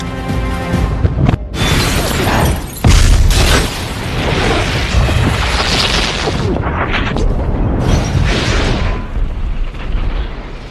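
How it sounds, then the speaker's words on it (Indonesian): A suicide bomb explodes in a war film featuring Navy SEALs, a loud, sustained, rumbling roar with sharp bursts and debris-like crashing that fills the whole clip. "Tak gentar dengan sebuah ledakan bom bunuh diri"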